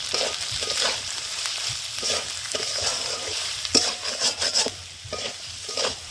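Snail curry with spices and green chillies being sautéed in a pan, a continuous close sizzle with repeated scraping stirs and a few sharp utensil knocks, no talking.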